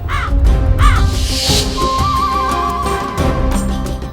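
A crow caws loudly and close in a series of harsh calls, with musical tones and other sounds in the background.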